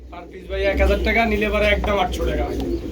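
Low, throaty cooing from King pigeons continues steadily, close and fairly loud, mixed with a voice speaking over it.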